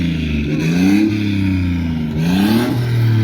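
A BMW E30 with a multivalve engine, likely a 2.8, revs loudly and close by, its pitch climbing and dropping in repeated blips with no talk over it.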